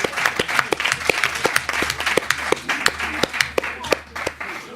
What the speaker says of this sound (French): on va vous applaudir encore